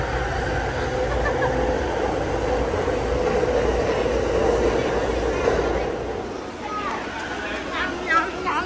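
A Disney resort train in Japan rumbles into a station with a broad, steady roar that gradually eases off, with voices faintly mixed into the background.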